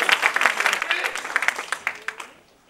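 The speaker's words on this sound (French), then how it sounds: "Est-ce que vous pouvez applaudir le Seigneur?" A church congregation claps in praise of the Lord during a sermon: a crisp, uneven burst of many hands, fairly close, that thins out into scattered claps and dies away within about two seconds.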